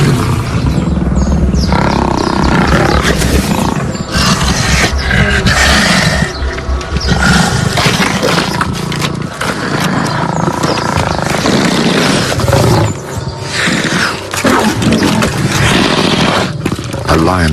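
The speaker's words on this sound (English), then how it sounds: "A lioness manages to seize the spoils and the other lions challenge her for it." Lions roar and snarl in a loud, continuous brawl over an antelope kill in the wild, with growls and thrashing layered densely throughout.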